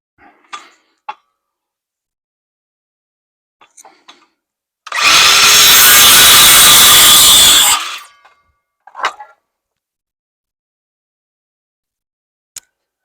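A power tool cuts a wooden pattern for a chicken pen in one loud, steady burst lasting about three seconds, with scattered knocks and handling sounds before and after.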